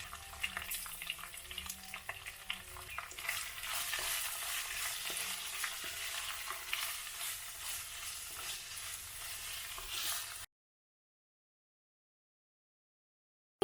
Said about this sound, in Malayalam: ഒരു സവോള നീളത്തിൽ അരിഞ്ഞെടുത്തത് ഇത്രയും നമുക്ക് ചേർത്ത് ആവശ്യത്തിന് ഉപ്പും ചേർത്തൊന്ന് വഴറ്റിയെടുക്കാം